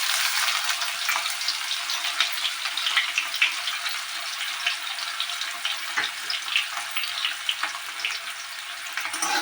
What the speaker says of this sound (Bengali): এবার আমি কাঁচা লঙ্কা আর পেঁয়াজ কুচিটা দিয়ে দেব।